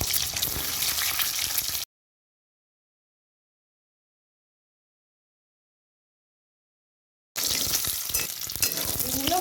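Eggs frying in mustard oil with a pinch of salt give a close, dense sizzle and crackle in two bursts, cut by a long stretch of total silence in the middle.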